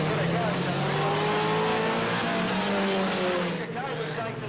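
Race cars accelerate away from the start at Redline Raceway in 1988, engines revving and rising in pitch in a loud, layered roar while a commentator talks over them.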